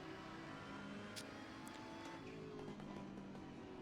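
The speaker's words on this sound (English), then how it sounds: "it's a little hard to hear over the engine noise a bit." Race car engine in the Assetto Corsa Competizione racing game, a steady droning hum held at even loudness throughout, with a few brief higher bursts and no talking.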